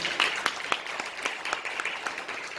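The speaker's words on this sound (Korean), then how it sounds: "박수 한번 하셔야 되지 않겠습니까?" Scattered, fairly faint clapping from a church congregation during a sermon, a modest round of irregular claps rather than a full ovation.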